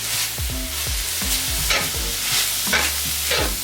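Seasoned ground meat and onion frying in a skillet with salt, pepper and Italian seasoning, stirred in quick repeated scrapes and knocks over a steady sizzle, close and without talk.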